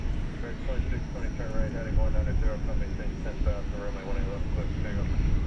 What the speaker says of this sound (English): We do now see the Qatar A350 1000 about to begin its long journey back to Doha